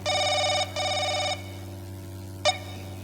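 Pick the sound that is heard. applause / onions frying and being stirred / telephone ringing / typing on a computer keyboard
telephone ringing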